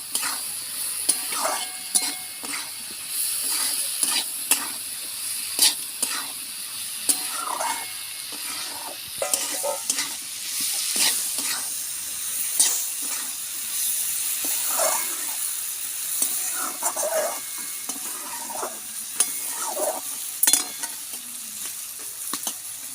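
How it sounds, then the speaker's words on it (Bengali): Spices with salt and turmeric powder are sautéed in a pan for a data-aloo-posto dish, giving a continuous close sizzle broken by frequent spoon scrapes and stirring knocks, with no talking. "হলুদ গুঁড়ো, ভালো করে আমি কষিয়ে নেব।"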